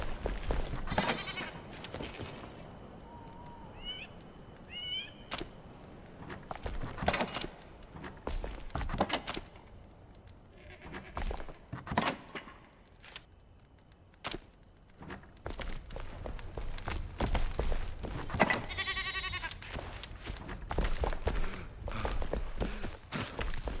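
Goats in the video game Enshrouded bleat several times among scattered footsteps and clattering, with a few wavering cries at moderate distance over a busy game soundscape.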